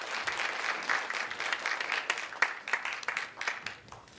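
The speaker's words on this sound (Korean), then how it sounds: "힘찬 박수 맞아주시면 감사하겠습니다." Audience at a National Assembly policy forum on public hospital evaluation applauding a party leader's arrival, a lively burst of many hands clapping with uneven peaks, moderately loud in an indoor hall.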